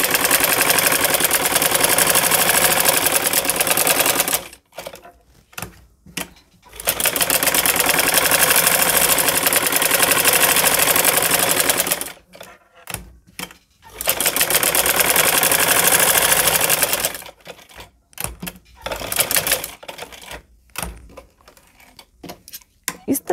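A sewing machine runs a straight seam on cloth in loud, steady bursts of several seconds each, stopping and restarting with short quiet gaps and faint handling noises between runs.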